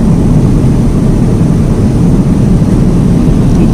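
Steady, loud airliner cabin roar during cruise at 36,000 feet en route to Dubai, a continuous deep engine and airflow rumble with no talk over it.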